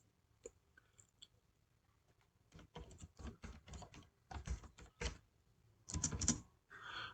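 Keys on a computer keyboard are typed while entering TypeScript code, in quick close-up bursts of clicks and taps that grow busier toward the end, with no speech.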